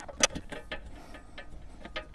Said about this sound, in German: Dann holen wir uns mal einen Ringschlüssel und schrauben die Dinger fest.